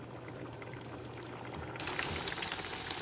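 Sweet plantain slices frying in hot oil, a steady bubbling sizzle that jumps sharply louder and brighter partway through, close and continuous without speech.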